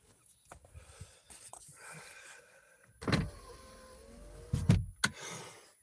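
Car power windows in an Impala whir up and down in a few separate bursts, each one close and fairly loud, with faint background noise between them.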